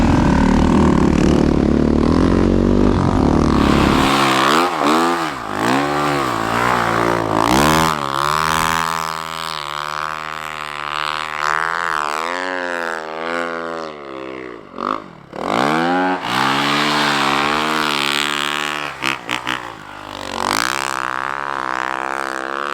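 A snow bike engine revs and drones loudly throughout a ride, its pitch climbing and falling with throttle changes, with a brief dip near the middle before it surges again.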